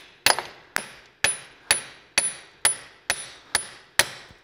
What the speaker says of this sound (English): I'm going to tap this end to unseat it from that side of the hub